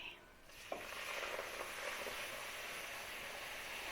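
Lasagna sauce stirred steadily in a pan on a stovetop as milk is added bit by bit, giving a continuous soft sizzle and scraping swirl with one small clink near the start, no talking.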